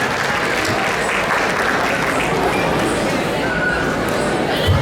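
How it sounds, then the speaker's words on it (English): A crowd at an outdoor India Independence Day celebration in Oakville, Ontario gives loud, sustained applause, with a dense, continuous roar of clapping and faint crowd noise underneath. "So give a big round of applause to both of them."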